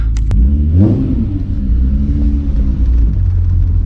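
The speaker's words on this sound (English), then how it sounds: "So you can hear all the VR6 sounds." A Volkswagen VR6 engine revs up hard, then settles into a deep, throaty rumble close by, with no voices.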